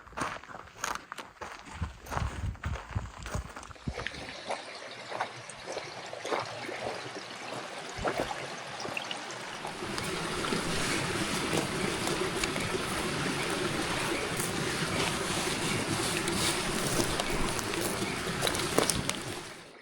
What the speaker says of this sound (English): Found a water crossing where the trail crosses